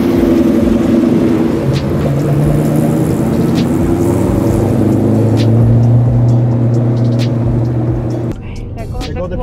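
A 500+ horsepower Terminator Cobra with a stick shift holds a deep, loud, steady engine rumble that rises slightly in pitch, then cuts down near the end, with voices talking over it.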